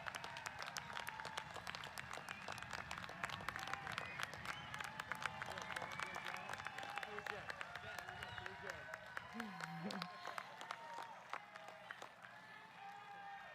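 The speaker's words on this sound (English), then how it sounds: "How about a collective round of applause for the class of 2021, Carl Sandburg High School," Sustained applause from a large crowd for the Carl Sandburg High School class of 2021 at an afternoon graduation ceremony, dense steady clapping with some cheering, continuing throughout before easing off near the end.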